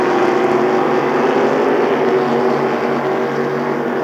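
Racing boats at a lake event roar past side by side at full throttle, a loud, dense, continuous engine drone that fills the scene without a break.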